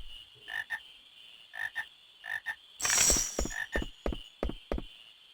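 Frogs croaking in the video game Final Fantasy 9, a run of short, clear croaks in pairs and small groups over a steady electronic hum, with a brief noisy swell midway and no talk.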